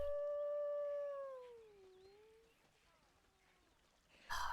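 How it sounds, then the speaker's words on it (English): Wolves in a Planet Zoo habitat let out a long, clear howl that slowly bends downward and fades, followed by fainter answering wails before a sudden louder noise at the end. "Ooh, listen to that howl."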